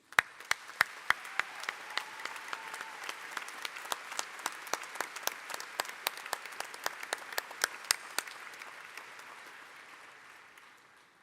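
A large audience at an engineering school commencement ceremony applauds steadily for several seconds, individual sharp claps standing out before the clapping gradually tapers off.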